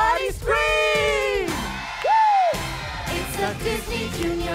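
An audience at a Disney Junior live show shrieks and whoops loudly. Sustained rising and falling yells and cheers come in waves from a large crowd.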